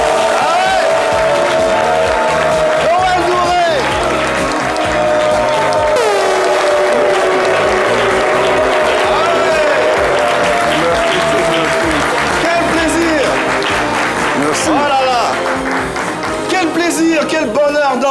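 Loud, sustained applause and cheering from a crowd welcoming an Ivorian crooner, with music playing underneath throughout; the clapping stays dense and steady from start to finish.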